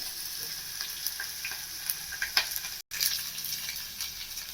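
Mustard seeds, cumin and onion fry in hot oil for a curry, with a dense, constant sizzle and faint crackles and ticks throughout. It cuts out for a moment partway and then resumes, with no voice over it.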